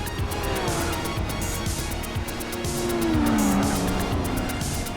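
A Callaway C12 race car in Gran Turismo 4 races alongside other cars, its engine droning loudly and steadily with rising and falling pitch. Tire squeal and the hiss of passing cars run throughout, with no talking.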